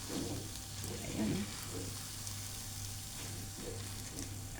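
Biko, sticky rice with cocoa, is stirred and cooked in a pan, giving a soft, steady sizzle with faint scraping stirs under a low hum, with no talking.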